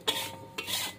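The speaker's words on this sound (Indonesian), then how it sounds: "Ini kita aduk terus, kita campur supaya masakannya tadi mencampur ya" Fish bait mixture for tilapia being stirred in a pan over heat, a close scraping and rubbing of the spoon in two steady strokes with no voices.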